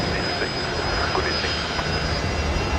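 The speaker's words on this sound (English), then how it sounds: "I'm sure you can all hear the Fokker coming into the bay as well" Fokker 70 airliner taxiing into a gate bay at Brisbane Airport, a steady broadband engine roar with a thin high whine, close and continuous, with no talk.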